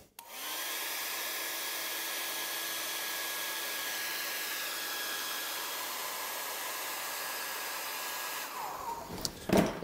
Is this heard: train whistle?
no